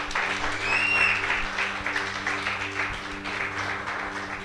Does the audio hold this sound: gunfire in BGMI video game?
no